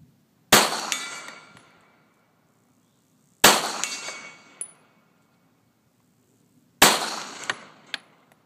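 Three Glock 17 shots at a metal target 75 yards away: each sharp report is followed by a ringing decay, with faint metallic pings arriving about a second later after two of the shots.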